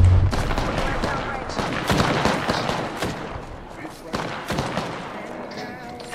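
Gunfire in a video game shooter, a rapid series of sharp shots and bursts over several seconds, with players' voices talking over the action.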